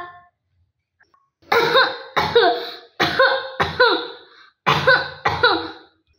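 Harsh, chesty coughing from a nearby man comes in three rounds of two quick coughs, with short quiet gaps between, during a school annual-day stage play.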